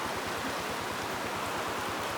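High floodwater rushes beneath a bridge in a loud, continuous broadband roar, steady and close with no pauses or voices.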